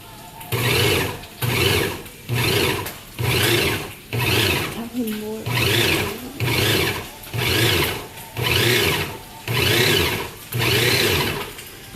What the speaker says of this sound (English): put the lid on and blend it